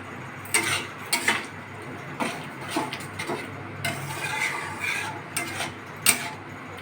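Egg leaf curry with crushed fried bori being stirred in a pan: a spoon clicks and taps against the metal in irregular light strokes, close and fairly quiet, with no voices.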